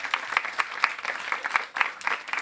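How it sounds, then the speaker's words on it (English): Audience applauding for the winning team at the finals of a challenge competition, steady clapping from many hands throughout with no talk over it. "a big applause for Team Rivierta"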